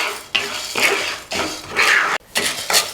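Urad dal is roasted in a pan with a spoon for an idli chutney powder, giving several scraping, rattling strokes of dry lentils against metal, close and fairly loud with brief pauses between.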